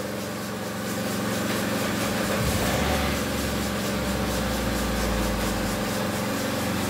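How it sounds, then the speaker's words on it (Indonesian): A Suzuki Grand Vitara 2000cc engine starts up and settles into a steady idle, a loud, continuous low rumble heard close by, with no one talking. "Mesin kita nyalakan."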